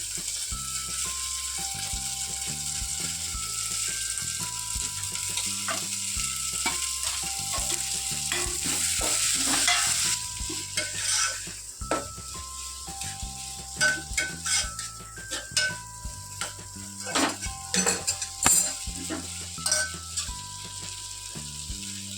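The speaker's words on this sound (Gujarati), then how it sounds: "હવે આ આપણી ખીચડી છે જે બચેલી નાખી દેવાની" Leftover khichdi is stirred into a kodri tadka in a pan. A spoon scrapes and clinks against the metal pan over a constant oily sizzle, and the stirring grows more vigorous and irregular halfway through.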